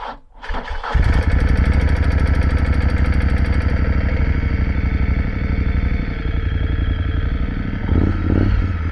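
A motorcycle engine, freshly refilled with new oil, starts up and settles into a loud, close, steady idle with a slightly rattly, clattering tone that holds throughout; no voices.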